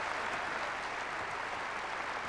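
Applause fills a squash court at the 2001 British Open as a player is clapped by his opponent, a dense, steady wash of many hands close and even throughout.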